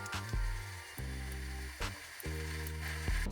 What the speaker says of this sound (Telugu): ఇక్కడ గిన్నె తీసుకొని గిన్నెలో కోసేసుకోవాలండి.